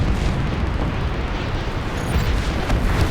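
A loud, sustained explosion roars in the Warface video game, with heavy low rumble and dense blast noise filling the whole moment and no talk over it.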